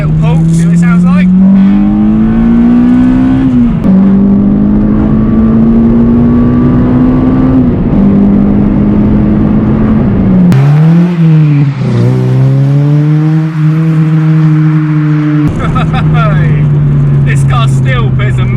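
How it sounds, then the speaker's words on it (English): Honda Civic EP3 with an M2 backbox exhaust pulls hard through the gears, its loud, close engine note climbing in pitch, dropping at each shift and then rising again over roughly eighteen seconds. "let's do another little pull, see what it sounds like"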